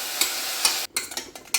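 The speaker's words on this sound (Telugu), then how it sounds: "ఒకసారి పోపు అంతా, అంటే మనం వేసిన ఎండుమిరపకాయలు, ఆవాలు, కరివేపాకు దీనికి పట్టేటట్టు ఒకసారి బాగా కలుపుకోండి" Ridge gourd pieces are stirred into a tempering of dried red chillies, mustard seeds and curry leaves in a pan, with a soft steady sizzle and a few sharp scraping strokes of the spoon, then a brief pause before stirring resumes.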